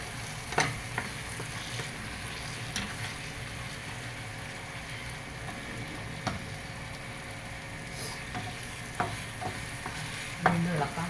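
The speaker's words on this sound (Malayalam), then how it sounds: "അപ്പം നമുക്ക് കശുവണ്ടി പരിപ്പ് വറുത്തെടുക്കാം." Cashew nuts fry in a pan for halwa while a utensil stirs them, giving a steady low sizzle broken by several distinct scraping and clinking stirs throughout, with no talk.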